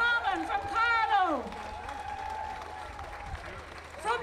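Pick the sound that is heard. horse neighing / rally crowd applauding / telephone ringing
rally crowd applauding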